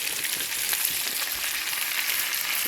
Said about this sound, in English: we're going to put about 2 cups of spinach into our pan and cook that down thoroughly